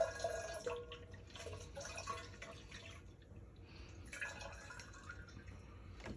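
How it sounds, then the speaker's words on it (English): Fermenting white wine must is poured back into a carboy, producing irregular liquid splashing and gurgling pours in short bursts, fairly quiet, with no talking. "We're going to pour the must back into the carboy."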